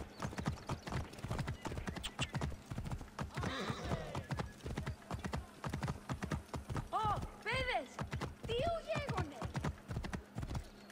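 Steady clip-clop of horse hooves trotting in an even rhythm in the video game Assassin's Creed Origins, with a couple of whinnies and snorts partway through, close and fairly loud.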